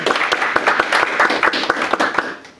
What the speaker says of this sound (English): Round of applause for Angela making the way all out here